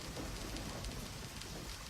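Steady rain hisses without a break across the whole stretch in the video game Deadly Premonition, a dense, even wash of drops with low rumbling underneath and no voices.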